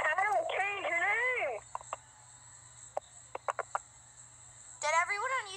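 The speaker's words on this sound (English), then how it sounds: "Did everyone on YouTube just hear your ringtone?" A phone ringtone plays a warbling, rising-and-falling melody, goes quiet apart from a few sharp clicks, then starts ringing again.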